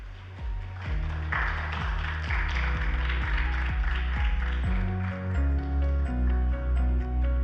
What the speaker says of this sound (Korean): 다 함께 이제 박수로 환영해 주시기 바랍니다